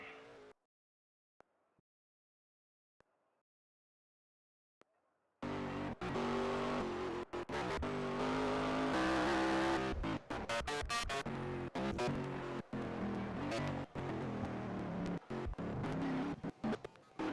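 Race car engines in NR2003 at the Quarry dirt track, near silence for five seconds, then a loud sustained roar of cars revving and passing with shifting pitch and brief cuts.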